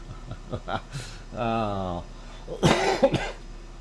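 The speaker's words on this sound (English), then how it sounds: "sorry, bad cough." A person talks briefly, hums a short tone, then lets out a harsh, close cough with a couple of rough bursts.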